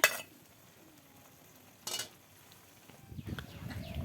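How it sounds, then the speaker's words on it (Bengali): Kalmi greens being stirred in a pan over a clay stove give faint scraping clinks, with a sharp metallic knock near the start and another around two seconds, then louder rustling stirring toward the end. "শাকের ভাজিটা নেড়ে সেড়ে নিচ্ছে"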